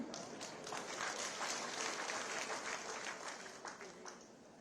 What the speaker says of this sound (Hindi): इसलिए मैंने कहा पुरुषों तुम भी ताली बजाओ भाई।